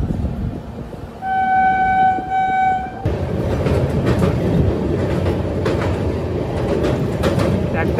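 A passenger train runs on the line between Paradip and Cuttack. A loud horn blast of about two seconds carries over a steady rumble, and the clatter of the passing cars continues to the end.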